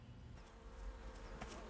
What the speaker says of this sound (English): I don't want to disturb the bees